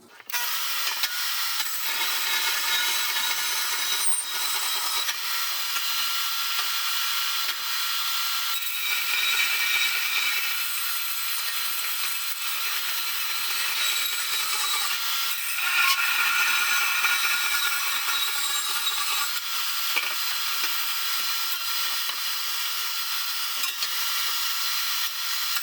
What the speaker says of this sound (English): I'm going to use my bandsaw